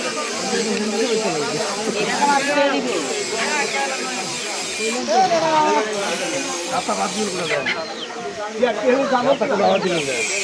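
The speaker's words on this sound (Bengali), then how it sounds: "কালীপুর বাজার হাঁস মুরগির হাট।" Chickens and ducks at the Kalipur village poultry market cluck and squawk in a busy, close jumble, with people talking throughout.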